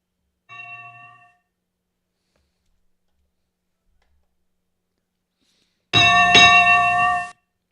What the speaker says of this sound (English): That's that bell there. That's the Asian market opening up there